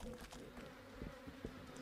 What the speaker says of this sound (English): Some bee.